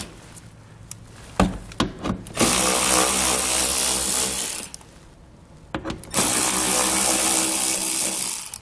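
Power tool with an 8mm socket removing fasteners from the underside of a 2017 BMW X3, whirring in two sustained loud bursts of a few seconds each, preceded by short clicks and spurts and separated by a quiet pause.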